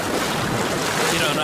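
Ocean waves wash around swimmers off the shore of Ana Island in a steady, close hiss of surf, mixed with buffeting wind noise.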